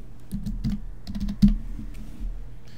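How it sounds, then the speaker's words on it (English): Short runs of keystrokes on a computer keyboard, close and clear, with a few brief pauses between bursts and no talking. "type my name"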